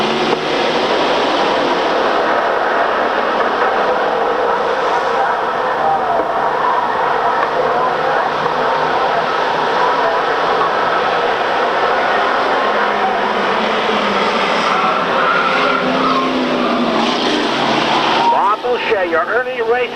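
Street stock race cars roar off the start of a ten-lap qualifier semi-final on a 1995 oval, a loud continuous engine drone filling the whole stretch, with a rising pitch toward the end.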